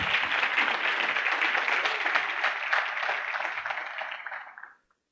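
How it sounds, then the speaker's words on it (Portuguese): Congregation applause at a church congress in Guarujá, a dense, steady round of clapping from a large audience that holds for several seconds and then fades out quickly. "dá um aplauso a Jesus."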